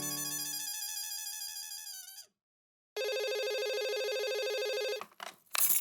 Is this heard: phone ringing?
yes